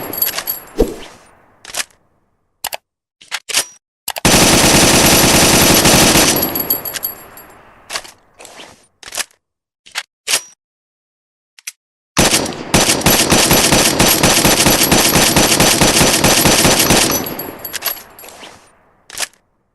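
M14 rifle gunfire, very loud and close: scattered sharp single shots alternate with two long sustained bursts of rapid fire, separated by brief silences.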